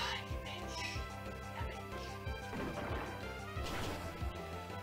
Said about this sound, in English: We'll go for some Rock Smashes